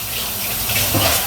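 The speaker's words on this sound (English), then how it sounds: "I'm going to rinse this out" Tap water running steadily into a sink as a dish from cooking a cheesy chicken potato casserole is rinsed, a continuous close splashing gush with no talk.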